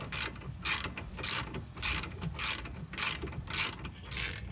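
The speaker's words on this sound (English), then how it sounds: "I'm going to tighten down this 12." Ratcheting wrench tightening a 12 mm brake bolt on a 2012 Honda CR-V during rear rotor and brake replacement: eight crisp, evenly spaced clicking bursts, close and clear, with no talk.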